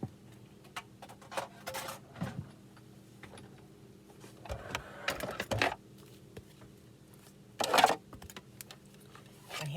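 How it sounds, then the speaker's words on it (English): A Big Shot die cutting machine cranks a card through with a magnetic plate and acrylic plate, giving faint ticking, clicking mechanical bursts at irregular intervals, with louder grinding passes around the middle and near the end. "let me bring up my Big Shot machine so I can show you how I did that"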